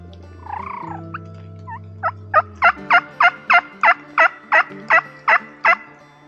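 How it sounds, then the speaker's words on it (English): A wild turkey on New York public hunting land gobbles in a rapid series of about twelve sharp, fairly close calls, preceded by softer yelping and a brief hum of background noise. "the distant gobbles were starting to get a little bit closer"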